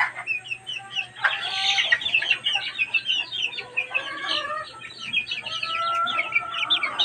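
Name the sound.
chickens clucking on a farm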